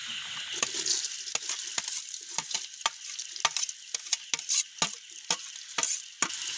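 Food fried in a hot pan for idiyappam kothu in a village kitchen, a steady bright sizzle broken by many sharp popping splutters at irregular intervals, close and fairly loud, no voices.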